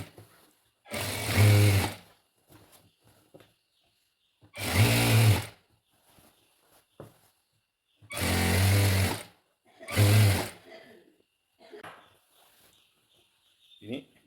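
An electric sewing machine stitches fabric for elastic in four separate runs of about a second each, loud and close, with short quiet pauses and light handling noises between them.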